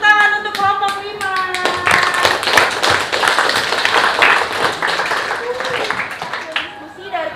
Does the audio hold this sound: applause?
yes